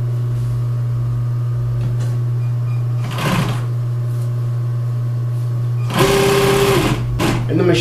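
Upholstery sewing machine with a welt foot stitching welt cord for a wing chair, two brief bursts of fast mechanical whirring over a constant electrical hum, heard under a voice speaking.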